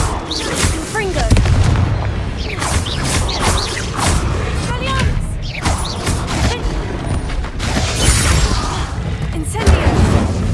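Confringo fire-blast spells in Hogwarts Legacy combat: repeated booming bursts and crackling impacts over busy clanking game effects, with voices shouting over them throughout.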